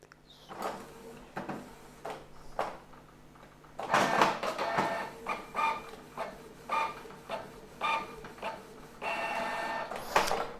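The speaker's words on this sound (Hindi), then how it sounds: "तो अब हम प्रिंटर को ऑन करके एक टेस्ट प्रिंट दे के भी देखते हैं।" A Canon Pixma ink tank printer, the GI-790 ink bottle model, prints a test document, its carriage and feed mechanism giving repeated whirring and clunking bursts that grow louder and busier partway through, with no talking.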